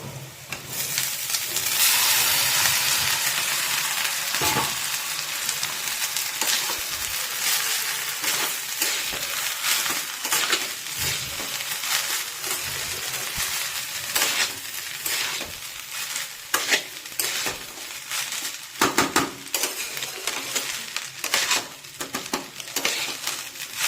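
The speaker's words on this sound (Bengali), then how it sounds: "এবার এই যে এই রাইস ভাতগুলো দিয়ে দেবো।" Cooked rice is tossed and stirred with lightly fried onions in a hot pan for egg rice, giving a steady, close sizzle with constant scraping and frequent clinks of the spatula against the metal.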